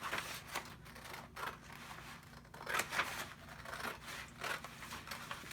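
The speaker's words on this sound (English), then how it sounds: "And we're going to cut this out," Scissors cutting a paper craft template for a double-pocket scrapbook page spread, soft repeated snips and paper rustle, quiet and close with no talking.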